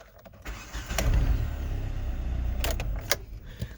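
A Hyundai i30 engine cranks and catches after an ignition lock repair, settling into a steady low idle with a few sharp metallic clicks over it.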